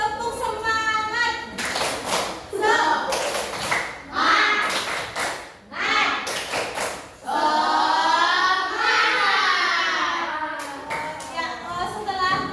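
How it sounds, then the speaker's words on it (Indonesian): Schoolchildren in a classroom perform the rhythmic 'tepuk semangat' clapping chant, with bursts of sharp group claps in a patterned beat mixed with their loud, chanted voices. "kita tepuk semangat dulu ya"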